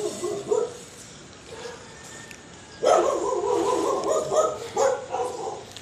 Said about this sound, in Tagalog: Kalat yung mga aso dito.